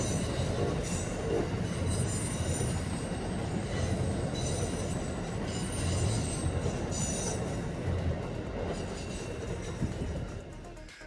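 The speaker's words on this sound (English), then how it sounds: "installing the squealer on Jenkins Curve, try to simulate the wheel flange sounds" A squealing wheel-flange sound from an HO scale model train on a layout curve, with the squealer unit installed on Jenkins Curve, running as a steady, continuous rolling rumble with a thin high squeal layered over it, alone and without talk.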